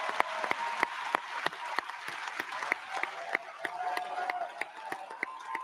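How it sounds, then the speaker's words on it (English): Sparse, distinct claps from a small group ring out under a steady background hum, fairly quiet and irregular, with no talking heard. "Back to this applause that they were doing."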